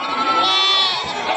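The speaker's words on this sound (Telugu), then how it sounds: "మేకలు కూడా చూడండి, పిల్లలు కూడా చాలా తక్కువ ఉన్నాయి." Goats and sheep bleat at a sheep market in Gudur, one drawn-out, wavering cry close by with faint background noise.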